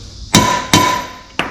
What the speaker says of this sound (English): You hammer it in.